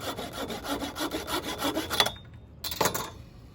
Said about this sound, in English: I'll take a saw to cut these little branches off of here